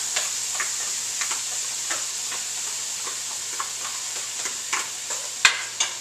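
Vegetable mixture frying over high heat in a hot pan, a steady close hiss of sizzling with small crackles and pops scattered throughout and one sharper pop near the end, no voices.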